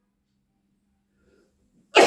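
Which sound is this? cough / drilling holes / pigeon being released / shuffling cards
cough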